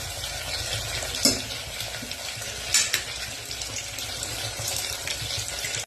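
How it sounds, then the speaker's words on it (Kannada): Garlic frying in a pan, with cashews about to be added: a steady broadband sizzle that runs throughout, with a few brief scraping or stirring clicks, close and moderately loud, no talking. "ಚೆನ್ನಾಗಿ ಒಂದ್ ಸ್ವಲ್ಪ ಕೆಂಪಾಗೋವರೆಗೂ ಫ್ರೈ ಮಾಡಿಕೊಂಡು"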